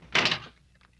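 A single solid thunk as a door swings shut, fairly close and brief, followed by quiet.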